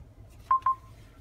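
Two short electronic beeps sound in quick succession from a 2017 Volvo XC90 infotainment system during phone connection, clear and close against a quiet cabin.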